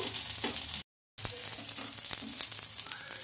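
Ponganalu batter fries in a pan, giving a close, continuous crackling sizzle with small pops. A brief dropout of silence interrupts it before the frying resumes.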